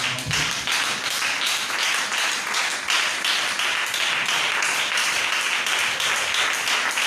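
Church congregation at a healing seminar clapping and acclaiming together, a steady, dense wash of applause with no break, loud and close throughout.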